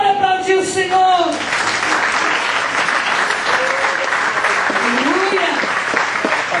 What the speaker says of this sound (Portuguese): Bora aplaudir o Senhor.